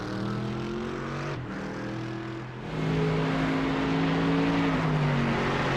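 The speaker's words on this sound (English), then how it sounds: "safety car is away" In a sim racing game, a safety car pulls away with a steady engine drone that swells as it accelerates, its pitch sliding up then easing back, loud and continuous without talk.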